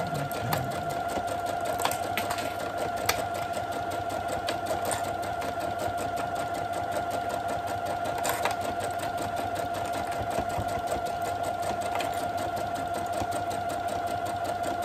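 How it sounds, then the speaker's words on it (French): Sewing machine stitching steadily around a fabric project bag, a fast continuous mechanical whir with a high motor whine and a rapid needle rhythm, close and unbroken throughout. "je vais faire point avant, point arrière pour sécuriser ma couture"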